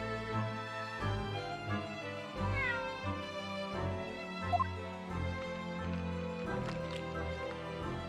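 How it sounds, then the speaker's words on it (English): A cat meows repeatedly over a busy background of music-like tones, with a few brief louder sounds mixed in. "Clever cat."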